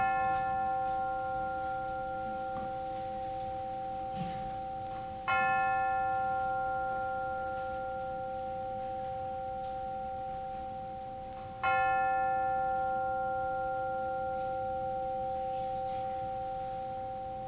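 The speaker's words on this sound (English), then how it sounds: "let us center our hearts and minds with the ringing of the chimes" Chimes ring twice during a church service, each bright strike leaving a long, slowly fading sustained tone, the second strike arriving several seconds after the first.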